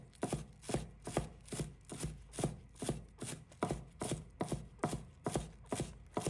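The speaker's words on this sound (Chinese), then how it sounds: "1把葱叶，切成葱花。" A knife chops scallion leaves into small rings on a cutting board: a steady run of about fourteen crisp, evenly spaced strikes, close and clear, with no talking.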